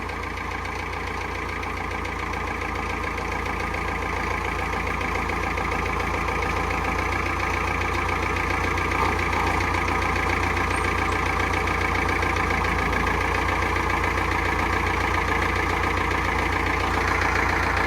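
A Farmall 504 tractor's diesel engine idles and runs steadily at close range, its low throbbing drone holding constant and growing slightly louder over time.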